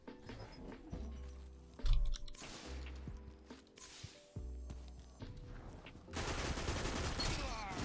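Rapid gunfire from a hand cannon in a Destiny-style Trials match, a sequence of sharp shots with low booms spaced through the first half, then a denser, noisier burst of firing toward the end.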